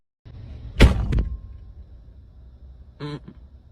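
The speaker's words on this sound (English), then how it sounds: "You know you're slamming your own car door." A car door slams shut once with a sharp, loud, close bang and a short rattle after it. A brief voice sound follows a couple of seconds later.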